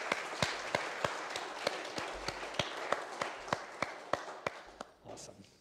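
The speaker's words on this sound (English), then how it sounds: "Mike wants to give them a round of applause." A church congregation gives a round of applause for the musicians after an Easter service: sharp, evenly spaced claps ring out over a steady bed of clapping that fades slightly toward the end.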